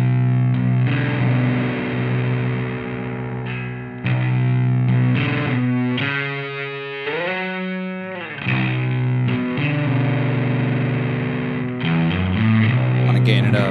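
A bass guitar runs through a gain effects unit, producing a loud, gritty, distorted tone with held notes, sliding pitch bends and choppy bursts over about fourteen seconds, played alone.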